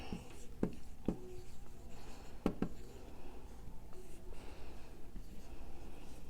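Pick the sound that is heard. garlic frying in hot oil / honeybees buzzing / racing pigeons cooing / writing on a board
writing on a board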